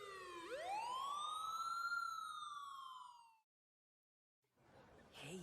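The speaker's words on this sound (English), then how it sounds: "Kinda early to hear sirens like that." A single siren rises from low to high and holds a long wailing tone, fairly distant and clean, then cuts off into silence before other faint sounds return.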